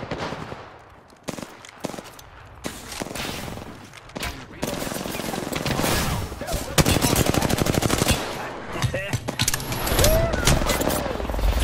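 Gunfire erupts in the video game Apex Legends, starting with scattered single shots, then building into rapid automatic bursts and sustained rattling fire, loud and close amid battle noise.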